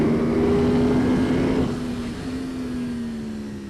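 A motorcycle on the cold Thunderhill race track holds a steady, loud engine drone that eases slightly in pitch as it pulls through a corner, close and continuous.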